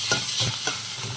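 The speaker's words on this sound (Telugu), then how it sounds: "ఆనియన్స్ కొంచెం ఫ్రై అయ్యాక అల్లం వెల్లుల్లి పేస్ట్ వేసుకుందామండి." Onions with ginger garlic paste frying in a pan for a long bean curry, a steady close sizzle broken by three or four soft stirring scrapes at an even pace.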